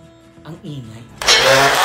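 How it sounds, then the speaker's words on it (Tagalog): Kitchen blender whirring loudly as it blends a sweet condensed milk drink, starting abruptly after a moment of quieter handling sounds and a voice, then running steadily to the end. "And let's blend it."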